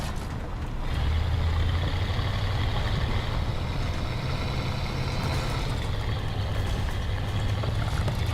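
A military vehicle makes a handbrake turn in the video game War Thunder, its engine holding a steady, heavy drone and rising slightly partway through, with no voices.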